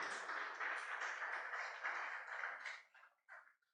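A church congregation applauds during a Sunday service, a steady wash of many hands clapping that fades out after about three seconds into a few last claps, faint and distant.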